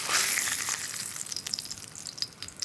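Fish frying in a hot pan, a close, bright crackling sizzle with scattered pops and spits that is loudest at the start and eases slightly, with no talking.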